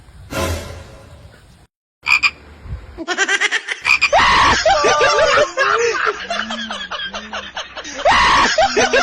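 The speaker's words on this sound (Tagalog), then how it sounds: "Palaka." Loud, rapid croaking calls in dense bursts, close up, mixed with a few sharp noises and what sounds like laughter.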